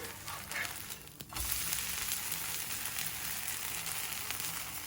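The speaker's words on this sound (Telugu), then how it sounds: "దోశ ఇలా ఎర్రగా వేగాక రెండో వైపు తిప్పుకోవాలి." Semiya tomato dosa sizzles steadily on a hot oiled pan, a continuous close frying hiss with a brief dip partway through.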